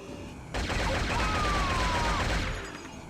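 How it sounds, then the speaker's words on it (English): Sustained, dense gunfire from the mech shooter SHOGO: Mobile Armor Division, a continuous roaring barrage that starts abruptly and fades out after a couple of seconds, with a faint whine passing through. "We're shooting things, can you tell?"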